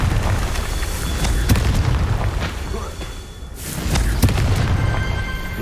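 Fire-blast spell explosions in the Hogwarts Legacy video game, heard as repeated booming bursts with crackling debris amid combat effects, while a player's voice speaks intermittently over the game sound.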